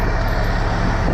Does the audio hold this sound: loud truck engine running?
yes